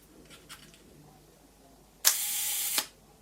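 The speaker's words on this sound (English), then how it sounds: "you can hear the old mechanical clockwork mechanism going there" Zorki 4 rangefinder camera set to a 1-second shutter speed: a sharp mechanical click opens into a steady whirring clockwork buzz for most of a second, ending in a second click, close and alone.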